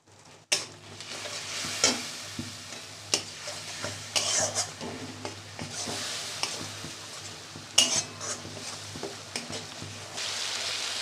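Ground spices with turmeric and a splash of spice water fry and sizzle in a pan for a curry of taro and potato, with a steady hiss under frequent clanking stirs and scrapes, close by and without talking.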